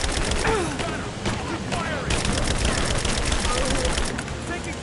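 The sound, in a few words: gunfire in Rise of the Tomb Raider video game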